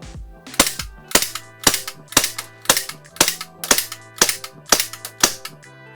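A Huntsman Tactical H18c gas blowback airsoft pistol fires about ten sharp, snappy shots at a steady, fairly quick pace, each with a crisp metallic crack from the slide cycling, close and clear with no talking.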